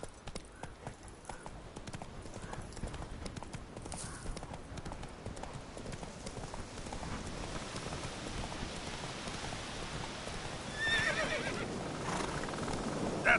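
Roach, a horse in The Witcher video game, gallops with a steady, close clip-clop of hooves and neighs along the way, over a soft rain-like patter that swells toward the end.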